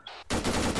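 Machine gun fire during platoon training for an amphibious landing, one sharp close burst breaking in suddenly after a brief quiet moment.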